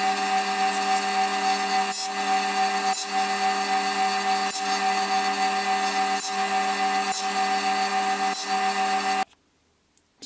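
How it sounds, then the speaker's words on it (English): A table saw blade on a crosscut sled scores notches into a wooden height scale. The steady, loud motor whine holds with faint rhythmic cuts, then the saw cuts off abruptly near the end. "So now I'm just going to use the blade to just score all of the 10 centimeter marks on"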